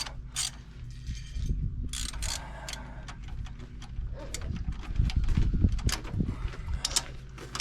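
Ratchet clicking in short bursts while tightening the hold-down bolts of a rebuilt Holley carburetor on a Pontiac engine, close and moderately loud, mixed with clanking mechanical noise.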